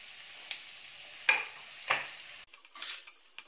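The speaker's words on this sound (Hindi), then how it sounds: "प्याज को हल्का ब्राउन होने तक इसे भूनेंगे" Sliced onions and long-cut green chillies with turmeric frying over low-medium heat for millet upma, a soft steady sizzle broken by a few spatula scrapes and stirs, fairly quiet and close.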